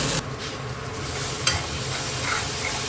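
Onion, tomato, garlic, chili, coriander and fried cashew paste cooking in oil and ghee with cumin, curry leaves and asafoetida, a steady close sizzle with a brief stir around the middle and no talking.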